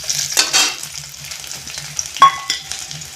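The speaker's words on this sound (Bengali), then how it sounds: "পেঁয়াজটা একটু লাল করে ভেজে নিব" Chopped onion and green chilli fry in hot oil with a steady sizzle, broken by stirring scrapes and one sharp metallic clink of the spatula against the pan partway through; no talking.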